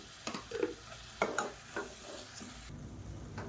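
Tomatoes sautéing in hot oil for a biryani base, stirred with a spoon: a soft steady sizzle with a few scraping, clinking stirs near the start and middle, close up with no talk.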